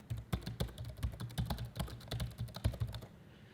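Rapid, close clicking of keys on a computer keyboard as a system password is typed in, a steady run of crisp keystrokes lasting about three seconds with no voices.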